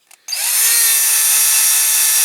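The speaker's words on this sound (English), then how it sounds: "So I'm going to start drilling now." An electric drill with a 2mm bit bores into a diecast metal Dinky Toys fire engine, starting with a brief click and then spinning up into a loud, steady, high whine that holds close by.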